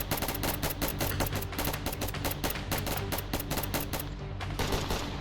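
Rapid automatic gunfire from a Roblox shooting game, dense bursts of shots firing continuously and loudly throughout with no pauses, like sustained machine-gun fire.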